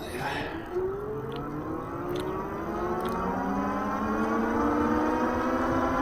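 An Andsky Explorer folding fat-tire e-bike motor whines as the throttle opens, its electric tone climbing steadily in pitch under steady wind rush and road noise.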